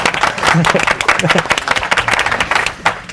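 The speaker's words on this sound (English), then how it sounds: "That's the round of applause moment." An audience at a students' union live-streamed event applauds, a dense, steady round of clapping from many hands, with a voice speaking over it.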